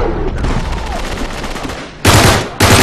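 Loud, close bursts of rapid gunfire in the online multiplayer shooter Uncharted 3, a sustained volley followed by two short, harsh bursts after a brief gap.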